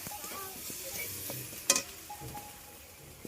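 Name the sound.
stirring chili powder, turmeric and salt in a pan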